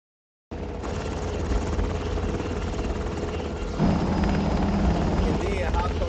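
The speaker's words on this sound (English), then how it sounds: "And then hops on the helicopter and flies away." A helicopter's steady rotor thrum and engine drone fill the clip, loud and continuous, with the pitch shifting slightly partway through.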